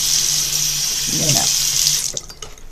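Hands being washed under a running sink tap during soap making, a steady broadband rush of water with splashing as the hands move through the stream, fading near the end.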